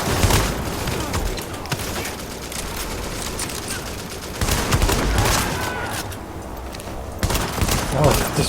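Dense, sustained gunfire from a shotgun in a video game, loud and continuous with heavy booms swelling at intervals and faint talk buried underneath.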